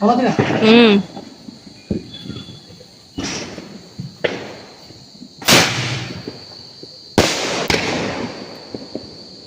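Diwali firecrackers and rockets burst in a series of sharp, loud bangs spread through an outdoor celebration, with a voice heard briefly at the start.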